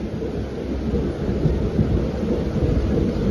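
Steady heavy rain with a deep continuous rumble of thunder beneath it, loud and close, with no breaks and no voices.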